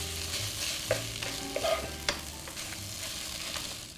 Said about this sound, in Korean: 다시 김치를 볶고 있는데요